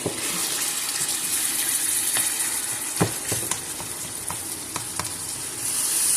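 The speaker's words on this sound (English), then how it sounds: "It's not going to take too long to cook because we have it on high heat." Ground beef frying in a pan on high heat, a steady dense sizzle with scattered crackles and pops, sounding close with no talking.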